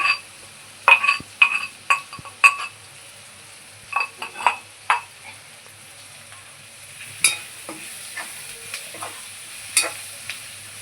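Ground thecha is roasted in a pan for chutney, with intermittent scraping stirs and clatter against the pan over a soft, quiet sizzle, bursts of activity separated by short pauses.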